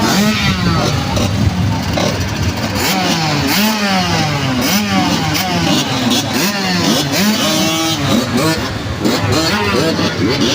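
Several 65cc motocross bikes race in a final at a motocross track, engines revving and climbing in pitch continuously, loud and close, with a commentator talking over the noise.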